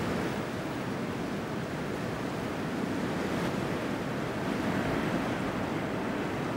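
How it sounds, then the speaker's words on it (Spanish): Ocean waves wash onto a beach in a continuous, even roar of surf, with a soft hiss of wind and no voices. "Poco a poco, el océano se deja sentir."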